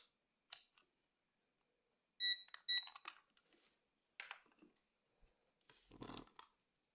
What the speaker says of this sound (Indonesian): Kita akan cek pakai buzzer.